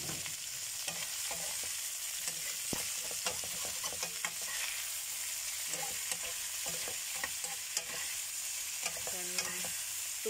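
Shallots, garlic and chili fry in oil in a pan, a dense continuous sizzle broken by frequent scraping clicks of a utensil stirring, close and steady for the whole stretch.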